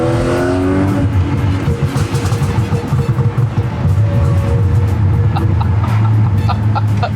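A coupe's engine accelerates on the move, a steady, loud drone with rising pitch at the start and continuous road and engine roar throughout.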